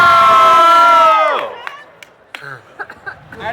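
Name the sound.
crowd screaming and cheering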